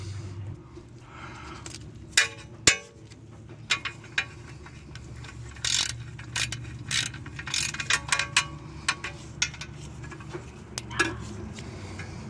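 Ratchet clicks in short bursts while a 10 mm bolt is tightened on a 2011–2015 Hyundai Sonata passenger-side CV axle job, with clanks of tools and metal parts over a low garage hum.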